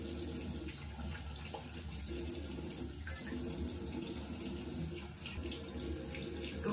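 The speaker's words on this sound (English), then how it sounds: "So let me just wash my face." Tap water runs steadily into a sink while a face is washed, a constant close splashing stream with no talk over it.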